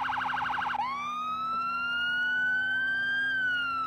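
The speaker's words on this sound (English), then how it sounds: "Oh, ambulance." Emergency siren wailing close and loud, a fast yelp switching to a long rising-falling wail as an ambulance passes, heard over steady road noise from inside a moving vehicle.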